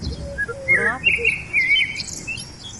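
A Sumatran parakeet, kept as a tame pet, gives a few bright, close chirps and a short rising warble, loud and clear against a quiet background with no talking.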